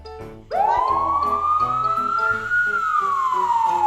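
A toy police siren wails close by, a single rising and slowly falling electronic tone, loud and steady.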